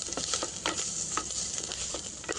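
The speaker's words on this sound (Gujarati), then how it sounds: "આપણી ડુંગળી બરાબર એકદમ સરસ બ્રાઉન આવી થઈ જાય શેકાઈ જવી ફાસ્ટ ફ્લેમ પર" Onions sautéing over a fast, high flame in a clay pot on a wood-fired chulha: a steady close sizzle and hiss with scattered soft stirring scrapes and pops, no talking.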